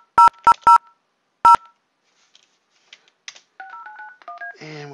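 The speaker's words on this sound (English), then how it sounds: "what you're hearing is the system dialing my cell phone" A 3CX Phone 12 for Windows phone system dials out to a cell phone, sending four loud, crisp DTMF tone bursts in quick succession, then quieter scattered beeps and a rising sequence of softer tones, with no talking.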